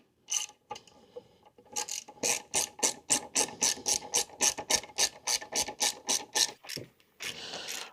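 A ratchet tightens a fastener while turn signals are installed on a Polaris RZR, giving rapid rhythmic clicking strokes, about twenty close, crisp bursts in a steady series with a brief pause near the end.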